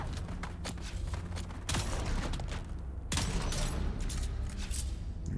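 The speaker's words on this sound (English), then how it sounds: "Oh, we're being shot at." Enemy gunfire in the video game Dune Awakening, with dense bursts of shots and impacts rattling through a busy game mix, loudest in two sustained stretches, with no voices.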